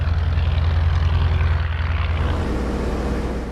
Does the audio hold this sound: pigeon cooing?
no